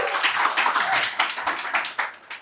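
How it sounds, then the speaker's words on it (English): A meetup audience claps briefly for a speaker introduced to talk about AI video generation, giving a short burst of scattered hand claps that thins out within a couple of seconds. "Could everybody give him a round of applause?"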